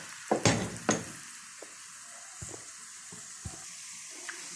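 Garlic sizzles in a pan for Egyptian koshari, opening with a few loud clattering spoon knocks as it is stirred, then settling into a soft steady frying hiss broken by occasional light taps.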